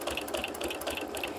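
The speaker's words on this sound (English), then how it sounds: "We're just sewing a quarter inch." A sewing machine stitches a quarter-inch seam on a fabric bowl cozy, a steady, fast, rhythmic close-up whirr with regular needle clicks and no talking.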